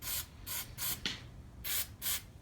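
Short spray-can bursts of clear coat on the underside of a 240SX, five distinct hissing blasts in an uneven rhythm, close and loud, with a faint clink between them.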